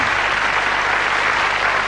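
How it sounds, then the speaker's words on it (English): Studio audience applause on a televised magic show, a brief burst of loud, dense clapping. "Let's have a big round of applause for a very good volunteer."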